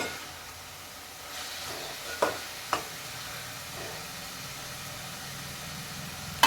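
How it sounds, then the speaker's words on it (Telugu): Masala for a fish curry frying in oil in a pan gives a faint, steady sizzle, with a couple of brief clinks partway through. "ఆల్రెడీ మనకి మసాలా అనేది ఎగిపోయింది. ఇంకొక 5 నిమిషాలు ఎగితే ఇంకా ఆయిల్ అంతా బయటకు వస్తుంది."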